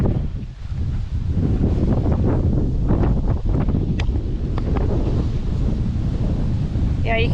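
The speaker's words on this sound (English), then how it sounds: "Yeah, you can hear the wind." Wind roars steadily across an outdoor spot by a river, a loud continuous buffeting rush on the microphone, with a few faint higher sounds breaking through.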